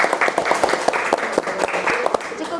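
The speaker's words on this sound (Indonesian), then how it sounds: "Sekali lagi tepuk tangan buat pemateri." An audience claps for a presenter at a teachers' learning-group session, a brief burst of dense close applause with many overlapping claps, steady and loud for its short length.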